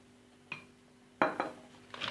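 Metal utensil knocking and scraping against a mixing bowl while stirring lemon cupcake batter with flour, a few separate clinks followed by a quick cluster of taps, close and fairly quiet.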